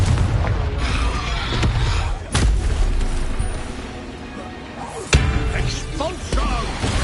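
Spell explosions in the Hogwarts Legacy video game, a fiery Confringo blast among others, land as sharp booms at intervals over a dense, rumbling battle din of crackles and impacts.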